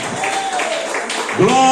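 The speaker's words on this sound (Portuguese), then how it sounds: "Pode bater palmas alegres." A church congregation claps joyfully, a steady wash of applause that runs the whole time, with voices and a sustained tone layered on top.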